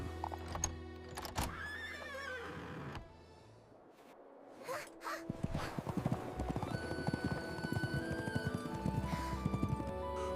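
Hooves of a horse drawing a golden carriage clip-clop in a quick, steady rhythm, with a horse whinnying near the start, under a musical backdrop.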